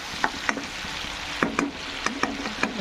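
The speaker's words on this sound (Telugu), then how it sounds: "ఇప్పుడు రెండు ఒకసారి మిక్స్ చేసేద్దాం." Raw prawns with salt are stirred in hot oil in a pan, giving a continuous sizzle with regular sharp spatula scrapes and clicks against the pan, close and clear with no voices.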